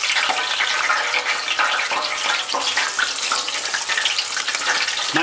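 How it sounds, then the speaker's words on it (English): A whole bream caught off ocean rocks fries in hot oil, giving a loud, dense, bubbling sizzle that roils on unbroken from start to finish, with no voices. "we're just going to drop him straight into the hot oil"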